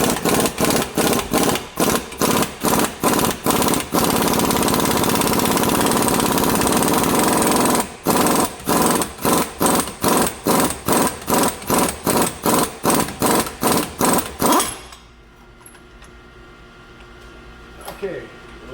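A hub tamer pulls the wheel hub flange on a 2008 Ford Fusion AWD, driven by a loud rapid hammering impact tool in repeated bursts with a short pause, then quiet.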